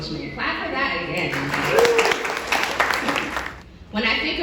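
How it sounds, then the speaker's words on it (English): Audience clapping at the Bikes Not Bombs fundraising breakfast rises into a dense, steady patter in the middle, mixed with a speaker's voice before and after. "Clap for that again."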